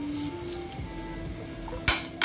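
Crushed garlic and oregano hit hot oil with a soft sizzle and light stirring, then a sharp pan clatter near the end, up close with a faint hum underneath.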